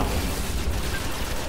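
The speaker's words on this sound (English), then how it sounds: "stop him with my grenade" A Destiny grenade detonates in a short, dense boom with a heavy low rumble that fills the whole moment, loud and close.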